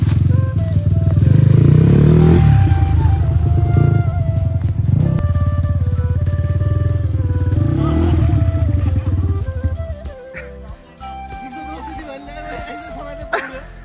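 Motorcycle being ridden and revved, its engine droning loudly with rising and falling pitch before dropping to a lower idle near the end, with voices over it.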